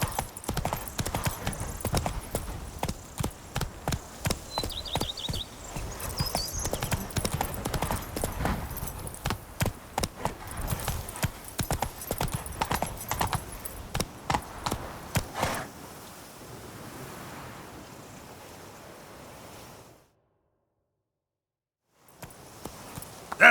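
Hooves of Roach, the horse in the Witcher 3 video game, clip-clop in a quick, steady rhythm for about fifteen seconds. The beat then thins out and stops, leaving a stretch of silence.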